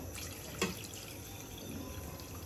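Water runs and pours steadily into a pan of spice-coated pabda fish, a soft continuous splashing hiss with one brief louder splash near the start.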